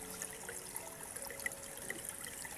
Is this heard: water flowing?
yes